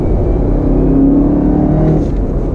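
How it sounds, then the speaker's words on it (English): A 2019 Chevrolet Camaro ZL1 1LE sends out a loud, continuous exhaust rumble with a steady deep drone throughout and no talking. "Great sound from the exhaust."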